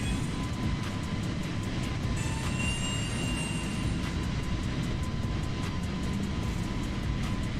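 Air start unit running on an airport ramp beside an Airbus A320neo in a flight simulator, a steady loud roaring rumble with a faint high whine, constant throughout.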